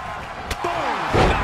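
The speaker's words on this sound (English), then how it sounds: "Boom! Knocked him down." A wrestler slams down hard in a WWE video game tag match, a sharp impact thump followed by swelling crowd roar and game noise; commentary-like voices run underneath.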